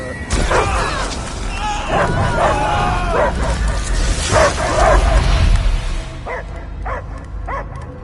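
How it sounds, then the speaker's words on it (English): Repeated dog barks and yips from a Guardians of the Galaxy game scene, mixed with voices and background noise, fairly loud and continuous. "I hear only barking."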